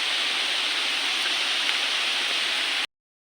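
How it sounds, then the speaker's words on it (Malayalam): A waterfall spills down from the hills beside two bridges in the Pollachi countryside, heard as a constant broad rushing wash that stays even until it cuts off abruptly. "ഈ 2 പാലത്തിൻ്റെ ഇപ്പുറത്തായിട്ടാണ് ഈ വെള്ളച്ചാട്ടം സ്ഥിതി ചെയ്യുന്നത് കേട്ടോ"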